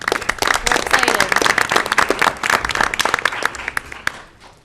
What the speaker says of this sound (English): So can you guys give them a big round of applause?